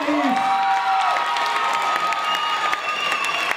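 An audience claps and cheers with whoops and high shouts as performers leave the stage, steady and fairly close, with voices mixed into the noise throughout.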